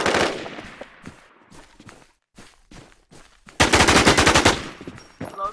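Mossberg shotgun fire in the Infestation video game, scattered single reports followed by a rapid loud burst of repeated shots, with quiet gaps between.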